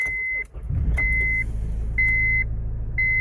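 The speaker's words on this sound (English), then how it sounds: "Just gonna insert the key in and start the car up." A Honda Civic MK8 engine starting and settling into a steady idle, with a repeating electronic warning chime beeping at regular intervals over the motor hum; no talking.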